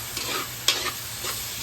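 Ground pork with garlic sizzling and frying in a pan while being stirred, a close, steady crackle with scraping stirs and a sharp clink partway through, no voices.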